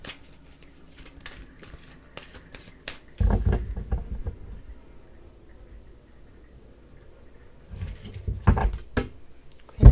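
Tarot cards being shuffled, with soft riffling flutters and taps near the microphone in a few separate bursts between quiet stretches.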